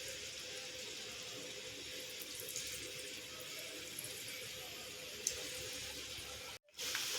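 Rice flour thattai deep-fry in hot oil on a stove, a steady broad sizzling hiss that holds evenly, then cuts out briefly near the end before resuming.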